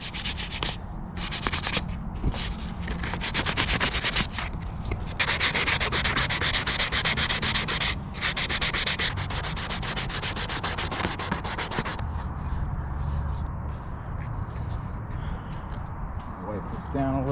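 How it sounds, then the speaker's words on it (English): Steady, loud scratchy rasping as 220-grit sandpaper is rubbed back and forth over primed steel on crash-damaged motorcycle parts, continuing without a break and easing slightly toward the end. "So I'm starting off with some 220 sandpaper, and I'm just gonna start taking some stuff off."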